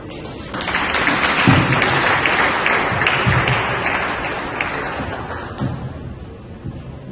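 An audience claps at a general staff meeting as a speaker from the Auditor General's office is welcomed, loud, sustained applause that swells early and then gradually thins out with scattered final claps.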